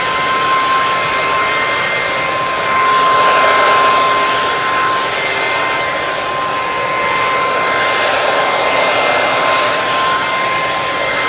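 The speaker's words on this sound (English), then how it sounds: "getting your blow dryer" A blow dryer heating a latex prop, a loud, continuous whirring blast with a steady high whine, running unbroken throughout without talking.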